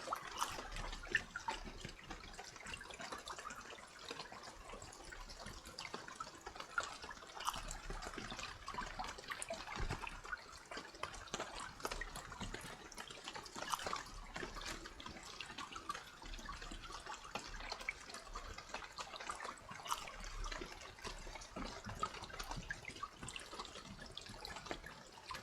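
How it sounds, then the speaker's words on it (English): Low-quality stock rain loop in the Escape the Pacific survival game, a faint, steady hiss of rainfall with soft watery spatter continuing evenly throughout. "Sounds like really low quality stock rain noise."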